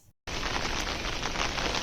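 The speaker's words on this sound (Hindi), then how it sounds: "बारिश अब तेज होने लगी थी" Heavy rain falls during a mountain trek to Madhmaheshwar in Rudraprayag district, a loud, steady hiss that starts suddenly after a brief gap and continues unbroken.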